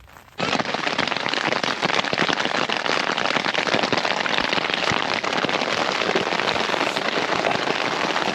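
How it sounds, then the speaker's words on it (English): Hail during a thunderstorm at a campsite in Lytle Creek, Coldwater Canyon, a sudden dense roar of hard pelting and sharp cracking impacts, loud and close throughout. "the storm came and we got a bunch of hail"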